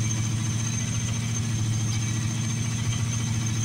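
A 1986 Dodge diesel engine running steadily at idle with its diesel pump working, a loud, constant low rumble with an even throb and no voices.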